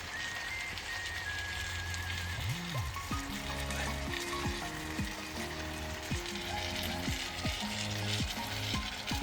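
Food sizzles in a pan at a beach campsite on the east coast while wind and rain carry on around it, a steady close crackling hiss mixed with pinging tones and no voices.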